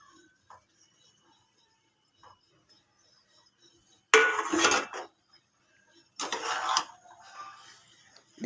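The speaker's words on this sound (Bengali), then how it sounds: "ভালো করে ঘেটে ঘেটে বেগুনগুলোকে গলিয়ে দিচ্ছি, মাছের তেলের সাথে মিশিয়ে দিচ্ছি।" Eggplant is mashed with fish oil in a pan. Two short bursts of utensil scraping and clattering against the pan stand out from near silence.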